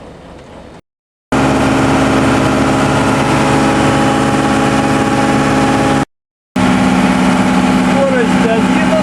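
An unbroken-in TDME-490 marine engine with a 3:1 hydraulic reduction gear runs on a motorboat on a cold morning, a loud steady drone cut by two brief gaps, with a voice talking over it.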